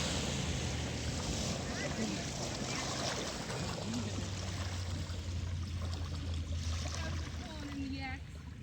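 Ocean waves wash steadily at a beach where people ride kayaks and floats, a continuous broadband roar with a low rumble underneath, loud and close throughout with no clear breaks.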